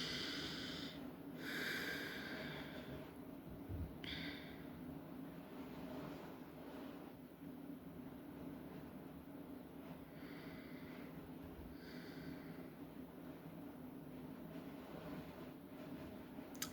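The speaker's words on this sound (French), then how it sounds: "On respire à nouveau." Deep, slow breathing during a guided meditation: a few soft, close inhales and exhales that rise and fall quietly over a faint, low background hum, with no talking.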